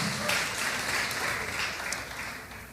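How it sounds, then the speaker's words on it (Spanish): A church congregation applauds, a full, continuous burst of many hands clapping that gradually fades toward the end. "¿cuánto le damos un aplauso al Señor?"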